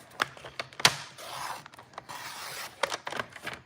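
A paper trimmer slices off excess paper for a card gift box, producing a few short, sharp cutting clicks and rasping slides of the blade, close and fairly quiet, with no talking.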